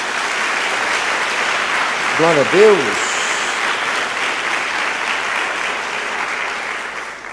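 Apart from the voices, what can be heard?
congregation applause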